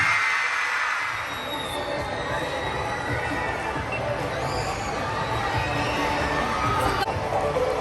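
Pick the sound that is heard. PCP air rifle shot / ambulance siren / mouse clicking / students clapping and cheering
students clapping and cheering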